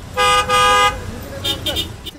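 Car horns honk in a traffic jam at an airport declared a silence zone: two long, loud blasts followed by several short toots, close by over a low traffic rumble.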